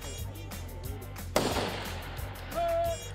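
Gunshots ring out on a stage at the A-G Cup shooting championship, one sharp loud report standing out amid a background rumble.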